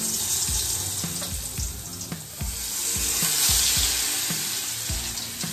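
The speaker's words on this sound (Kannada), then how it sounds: "ಎಣ್ಣೆ ಕುದಿತಾ ಉಂಟು, ಮೆಣಸು ಕೂಡ ರೆಡಿ ಉಂಟು ಕಾಯಲಿಕ್ಕೆ. ಟಕ ಟಕ ಪಕ ಪಕ ಅಂತ ಇದೆ." Chilies fry in boiling oil in a small pot, crackling close up with a run of sharp, irregular pops and spits over a constant sizzle.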